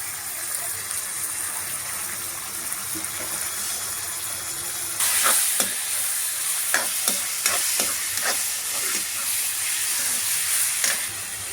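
Tomatoes stirred and sautéed in a frying pan for a capsicum thokku masala, a steady hiss of frying with a run of scraping stirs and clatters midway, close and unvoiced.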